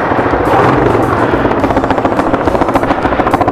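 A Raider motorcycle exhaust revs hard and close, a dense roaring rumble that settles into a rapid, pulsing throb toward the end.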